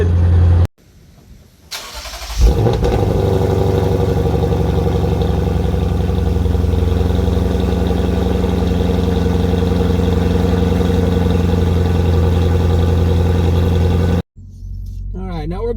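Lexus IS500 with an Apex'i N1 Extreme exhaust, heard from inside the cabin: the engine fires up with a sharp roar, then settles into a loud, deep, steady idle rumble that runs unbroken for a dozen seconds before cutting off.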